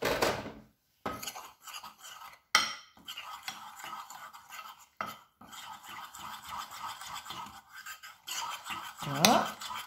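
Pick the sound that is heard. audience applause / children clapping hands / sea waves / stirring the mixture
stirring the mixture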